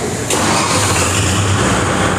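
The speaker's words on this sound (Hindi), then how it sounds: "अब इसी कंडीशन में फिर हम ट्रैक्टर स्टार्ट करके कोशिश करते हैं।" A Kubota MU4501 tractor's engine cranks and catches near the start, then settles into a loud, steady diesel idle heard up close, with no voices.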